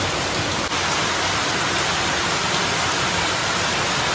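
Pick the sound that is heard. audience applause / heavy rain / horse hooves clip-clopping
heavy rain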